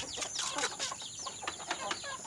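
Native chickens on a traditional semi-free-range farm cluck in short, repeated bursts at moderate distance, several birds calling over one another, with faint background noise and no talking.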